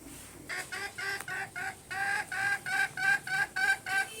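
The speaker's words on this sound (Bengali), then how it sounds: "এই যে আমাদের মুরগিগুলো ডিম পারবে, এই জন্য আর কি ডাকাডাকি শুরু করে দিয়েছে" Hens about to lay eggs cluck loudly and repeatedly in a steady, insistent rhythm, close up, with about a dozen calls in quick succession.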